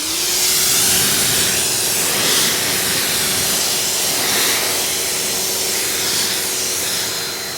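A water spray rinses a car's coated paint in a broad, continuous close hiss that swells and eases as the stream moves across the surface.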